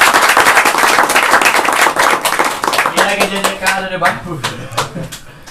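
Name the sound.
loud applause for guests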